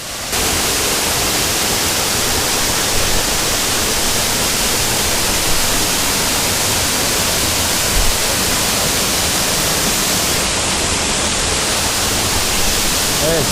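Oylat Waterfall near İnegöl, Bursa, roars as a steady, loud broadband rush of falling water that fills the whole clip without pause.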